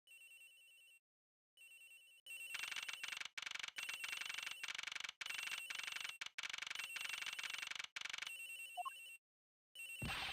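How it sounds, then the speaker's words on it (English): A mobile phone rings in a fandub of the Ace Attorney video game, an electronic ringtone repeating in steady bursts with short gaps, loud and close, with no talk over it. "Agent Nix's phone, it's ringing from somewhere, sir."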